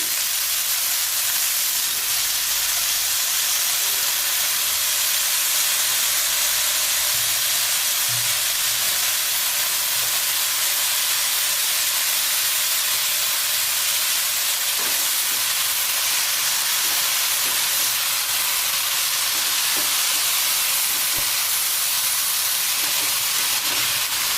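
Green amaranth (rajgira) leaves added to a hot pan over a low gas flame give a steady, even sizzle and hiss that runs unbroken throughout, with no talking.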